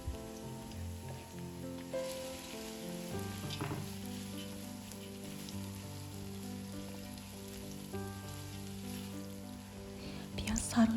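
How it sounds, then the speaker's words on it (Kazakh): Onions frying in 100 ml of sunflower oil in a hot pan, a steady soft sizzle running throughout under background music with tonal notes, fairly quiet and continuous. "Енді күнбағыс майының 100 мл алып, қызып тұрған табамызға құйып, ең алдымен пиязымызды жақсылап тұрып 5 минутты қызарғанша қуырып аламыз."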